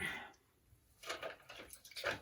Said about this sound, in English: And I squeeze the water out of the sponge.